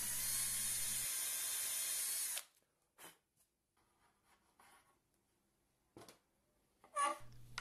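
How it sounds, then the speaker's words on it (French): A power drill with a countersink bit bores holes in wood for a camping-car ballot box, one loud continuous burst of drilling followed by quieter handling clicks and short bursts. "Je perce des trous avec un foret équipé d'une fraise, ça va me permettre d'encastrer la tête de vis."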